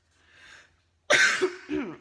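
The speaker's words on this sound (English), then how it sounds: "I do apologise for the coughing." A soft, muffled sound, a pause, then one sharp, harsh cough and a second, shorter throaty cough close to the mic.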